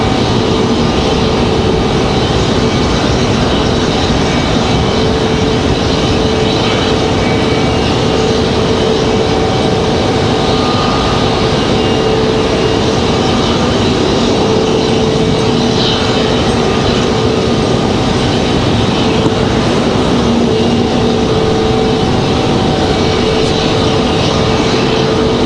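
A United Airlines Boeing 737 jet departing Raleigh Durham airport for Houston, heard as a loud, steady, broadband engine roar that holds unchanged throughout with no talking.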